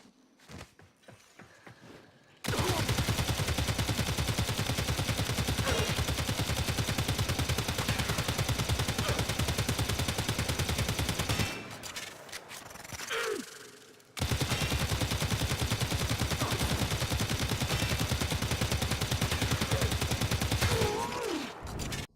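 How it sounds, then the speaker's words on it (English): A Prime assault rifle firing on full auto in the video game Warframe, with long, loud, dense streams of rapid shots that break off once briefly before resuming. "Going to use both fire modes to give you a general idea of how the fire modes will perform on same enemy, starting with auto fire mode."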